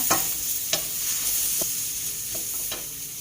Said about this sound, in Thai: ตัวพริกหอมกระเทียมนะคะเขาจะได้ไม่ไหม้เร็วจนเกินไปนะคะ จัดการคั่วไปเรื่อยๆใจเย็นๆค่ะ